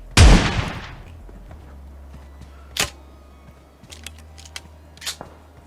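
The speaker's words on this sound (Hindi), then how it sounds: "इस बंदे से बचने के लिए मैं चले जाता हूँ और एक शॉट कनेक्ट करने की कोशिश करता हूँ जो नहीं हो पाता" A single sharp, loud shotgun blast opens a PUBG match, followed by a few fainter, distant gunshot cracks spaced out over a low hum of game ambience.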